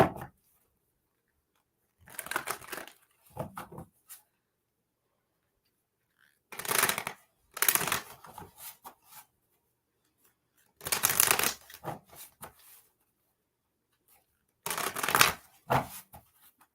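Tarot cards being riffled and shuffled in several separate bursts, crisp papery flutters with quiet pauses between them, close up, no voices.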